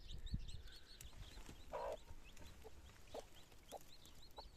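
Chickens, including a hen with her chicks, are heard at a nomadic camp in southern Iran. Soft scattered clucks mix with repeated high chick peeps, all quiet and somewhat distant.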